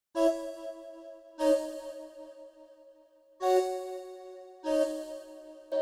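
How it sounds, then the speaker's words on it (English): Four mellow, hollow tones like blown pipes and bottles, each note sustaining for over a second with airy breath at the onset. "the first sound we got is this sound called Pipes and Bottles"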